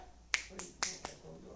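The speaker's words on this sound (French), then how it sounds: "en un claquement de doigts" Fingers snap four times in a quick, uneven series, each snap crisp and close against a quiet room background.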